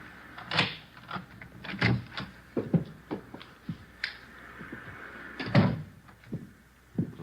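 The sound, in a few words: front door being unlocked with key and opened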